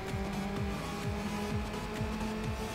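Game car from Need for Speed Underground on PS2, engine droning steadily with repeated gear-shift swoops, loud and continuous with no talking.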